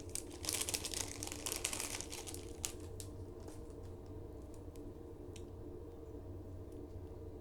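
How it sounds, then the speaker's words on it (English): Plastic mail packet crinkled and torn open up close, a dense burst of rustling in the first few seconds that thins to sparse crackles over a steady low background hum. "Sorry for crinkling."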